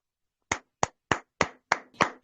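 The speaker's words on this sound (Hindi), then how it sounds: "ग्रेट तरीके से हम लोग वेलकम करेंगे सभी लोग तालियां बजाकर" Hands clap to welcome a guest onto the stage at a group training event: six sharp, close, evenly spaced claps with brief silences between them and no voices.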